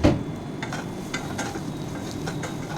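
Vegetables sizzle in a pan for macher jhol, with a loud clatter of the spatula at the start, then a steady frying hiss broken by regular light scraping strokes as they are stirred.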